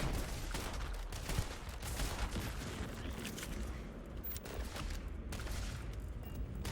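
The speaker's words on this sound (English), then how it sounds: "Why are you shooting that one?" Video game gunfire crackles in a dense, continuous barrage, a steady rattle of shots and thuds with no pause and no voice over it.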